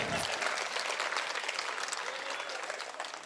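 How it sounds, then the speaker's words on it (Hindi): An audience claps at a Hindi poetry recital, a fairly loud, dense wash of applause that slowly thins out toward the end. "ताली बजा के बताइए।"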